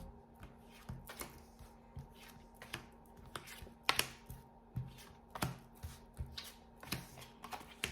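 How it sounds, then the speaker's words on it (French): Tarot cards are shuffled and laid out for a five-card draw, giving a series of crisp close riffling snaps and flicks at an irregular rhythm against a faint steady hum, with no talking. "Allez, on va regarder le tirage à 5 cartes."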